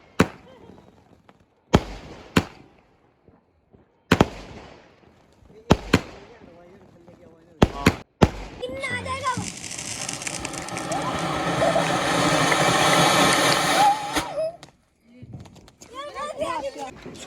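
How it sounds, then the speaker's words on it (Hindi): Diwali firecrackers go off in a family celebration, first as a string of loud, sharp separate bangs, then as a long roaring crackle and hiss lasting several seconds, with voices faintly audible afterward. "अब यहाँ पे हम सारे क्रैकर्स चलाएंगे और उसके बाद फिर एंड कर देंगे आज की दीपावली का।"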